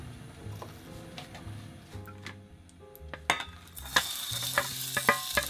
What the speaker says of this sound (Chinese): 倒入一点油